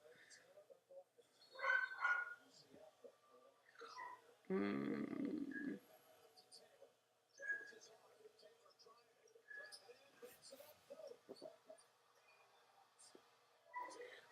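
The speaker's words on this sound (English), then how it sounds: "Oh, you can hear my dog." A dog barks a few times in a room, short yips and barks scattered between stretches of someone talking, moderately loud and somewhat distant.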